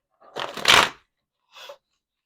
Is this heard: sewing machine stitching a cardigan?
no